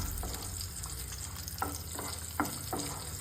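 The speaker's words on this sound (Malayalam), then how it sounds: "ആദ്യം അമ്മ പച്ചമുളകും വറ്റൽമുളകും കൂടി ഇട്ടിട്ട് വഴറ്റണം." Green chillies and dried red chillies fry in a pan for sweet and spicy chicken, with a soft continuous sizzle broken by a few sharp spatula scrapes, fairly quiet and without voices.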